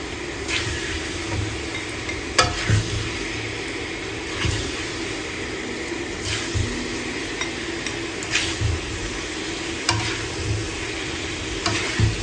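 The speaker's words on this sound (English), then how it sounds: "So I'm just going to scoop this up here." Half-cooked chicken pieces sizzling in a frying pan for a chicken handi, with steady crackling frying noise and periodic scraping and clinks of a utensil scooping the meat out, close and fairly quiet with no talking.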